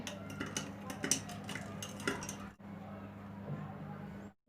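A lemon water drink with cumin being stirred in a glass, light clinks and taps of a spoon in an irregular rhythm for a couple of seconds, then quieter stirring.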